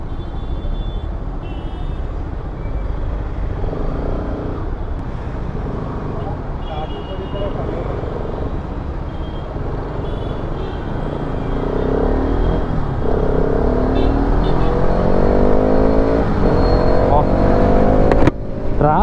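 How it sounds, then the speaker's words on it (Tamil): Riding an RS200 motorcycle through heavy city traffic in Coimbatore: a constant low engine and road rumble with passing vehicles and a swelling rev toward the end, while someone talks over it throughout. "கோயம்புத்தூர் டிராஃபிக் மட்டும் என்னால் பிரிக்கவே முடியாது போல்,"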